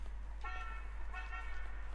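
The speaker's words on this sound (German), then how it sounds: "Ah, es wird gehupt" Two short car horn toots in a video game, each a brief harmonic honk with a gap between, heard at moderate distance over a steady low hum with no talk.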